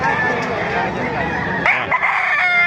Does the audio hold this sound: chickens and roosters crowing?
yes